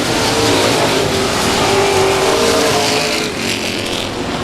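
Stock cars racing at South Texas Speedway, a loud sustained engine roar with a rising and falling pitch as the pack passes close by, easing off near the end.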